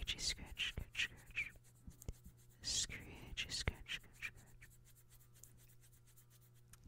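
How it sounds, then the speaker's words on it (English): Soft fingernail scratching in a cat-ears ASMR roleplay, heard as close, quiet rasping strokes in short bursts, mixed with intimate whispering. "Do you want me to scratch behind those adorable cat ears of yours?"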